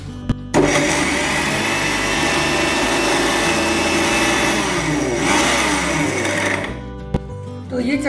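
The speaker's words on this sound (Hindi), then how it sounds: "अब ये मिक्सी में डाल के जार में इसकी हम चटनी बनाएंगे।" An electric mixer grinder blends green chili and ginger chutney with water in the jar, a loud whirring motor that runs steadily for several seconds, dips and revs, then stops with a clunk near the end.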